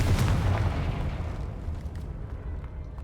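The Confringo blasting spell goes off as a loud, booming explosion in Hogwarts Legacy, with a heavy low rumble that fills the whole moment and slowly settles.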